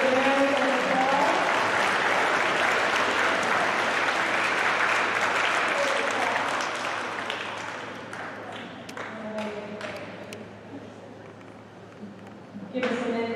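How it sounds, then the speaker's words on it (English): Audience applause at a middle school awards ceremony, a long stretch of steady clapping that thins out toward the end, leaving scattered claps and a voice speaking. "Please give all everyone here a great big round of applause."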